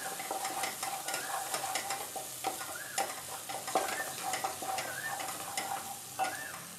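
Tomatoes sauté in a pan for a Bengali-style mustard fish curry, with busy crackling sizzle and repeated scraping stirs close up, continuous and fairly loud without talk.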